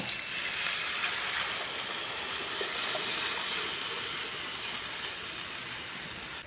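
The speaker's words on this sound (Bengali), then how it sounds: "এবার আমি দই আর বেসনের যে ঘোলটা বানিয়ে রেখেছি এখন আমি কড়ার মধ্যে ঢেলে দেব" Yogurt and gram flour batter poured into a hot kadai gives a steady, even hiss and sizzle that holds at moderate level throughout, with no voices.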